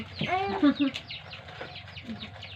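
Chickens cluck in short, bright bursts, fairly close, with a few louder squawks early on and softer clucking continuing afterward over low background noise.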